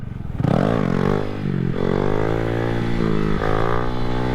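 A motorcycle engine drops into engine braking while the bike is held up in a wheelie near the balance point, revs falling and wavering in a loud, close, harmonic drone that dips and recovers for a few seconds.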